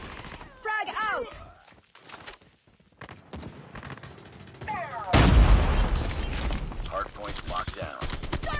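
A frag grenade goes off in a COD Mobile ranked multiplayer Hardpoint match, a loud, broad blast around the midpoint followed by a rumbling tail, with other gunfire and in-game voice callouts before and after.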